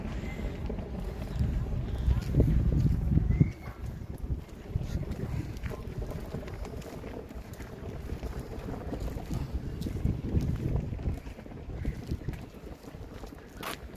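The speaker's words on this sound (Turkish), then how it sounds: "Bak bayrağın sesi nasıl dalgalanıyor can" A large Turkish flag flaps in strong wind on Çamlıca Hill in Istanbul, heard as a rough, gusty rumble and buffeting close to the microphone that swells and eases over time, with voices talking now and then.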